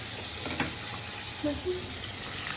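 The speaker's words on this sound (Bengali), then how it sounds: "আর এখানে চিকেন ফ্রাই হইতেছে, আর এখানে তো কোটিং করতেছে।" Chicken fry coated and frying in oil sizzles with a steady broadband hiss, with a few faint clinks and brief murmurs of voices in the background.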